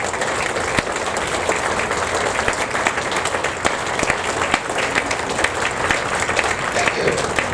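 Members of the Menomonie Lions Club give a standing ovation to the club's newest members at its 75th anniversary event, a dense, steady roomful of clapping that runs unbroken from start to finish.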